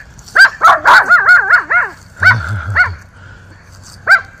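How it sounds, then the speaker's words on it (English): Close, loud barking from Miniature Schnauzers in quick, wavering bursts, a couple of deeper barks mixed in, then a pause and one final bark. "Barking at the neighbors."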